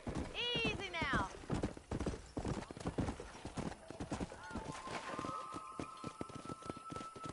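Horse hooves clip-clop in a Red Dead Redemption cattle-herding scene, opening with a whinny and then a brisk, steady rhythm of hoofbeats under intermittent talk, with some tonal in-game sounds near the end.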